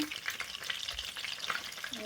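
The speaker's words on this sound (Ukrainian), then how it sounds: "гарно засмажилися і смажимо з другого боку і знову ж таки під кришечкою" Continuous sizzling of eggplant frying in a pan, with faint scraping and stirring noises, close by and steady throughout.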